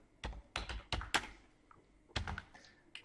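Someone types an author's name on a computer keyboard, a few close, uneven bursts of key clicks separated by short pauses, quiet overall.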